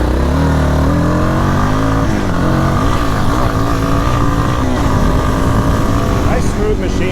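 A Yamaha Warrior cruiser motorcycle ridden at speed, its engine droning loud and close throughout with shifting pitch as it accelerates, plus steady wind rush.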